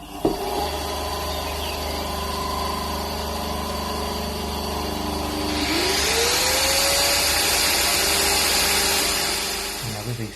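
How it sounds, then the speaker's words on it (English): Bandsaw cutting resin, a loud steady motor drone and blade whine that grows brighter and harsher midway as the cut bites, then winds down near the end. "So now this is a bit different detailing with a bandsaw."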